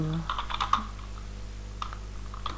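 Close computer keyboard typing while code is written: a quick burst of several keystrokes, a pause, then a few more taps, over a steady low hum.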